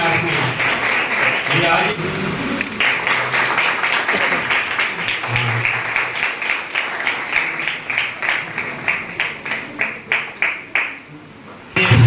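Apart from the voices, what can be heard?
audience applauding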